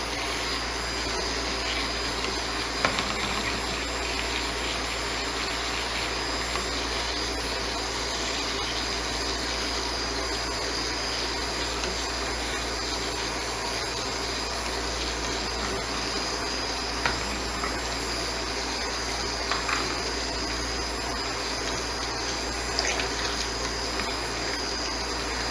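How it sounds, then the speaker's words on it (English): A stick blender whirs steadily while mixing a donkey's milk soap batter, a constant close motor drone with occasional faint clicks and knocks, no talking. "going to stick blend it. So until it's emulsified."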